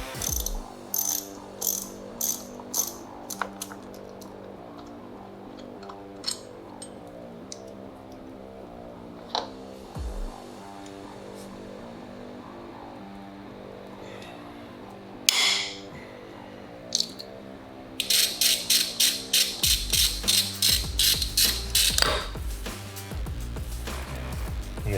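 Left-side footrest and shift lever being wrenched off a Harley-Davidson Iron 883 motorcycle: a steady ratchet clicking runs throughout, with a faster, louder burst of rapid clicks near the end, with no talking.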